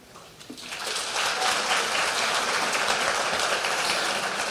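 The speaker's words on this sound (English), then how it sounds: "big round of applause for Queen Sandy Honnold" Applause from the audience at a senior pageant starts soft and swells within a second into a steady, full wash of clapping that carries on without any voices over it.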